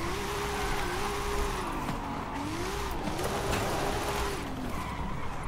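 A car engine revs and drones steadily in the racing video game Forza Horizon 5, its pitch rising and falling in waves, with faint tire noise and no talking.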